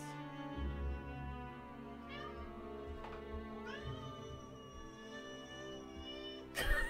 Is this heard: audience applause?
no